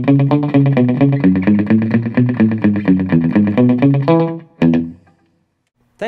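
Electric guitar run through a Vox DelayLab set for rockabilly slapback tube delay, each picked note followed by a quick doubled echo in a bouncy, steady rhythm, loud and close, ending with a few ringing notes and then silence.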